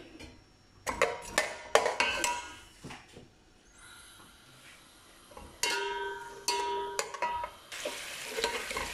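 Onions dropped into a hot pan for a meat sauce, bursts of stirring clatter and scraping, then sizzling frying that swells loudly in the second half, close with no talk.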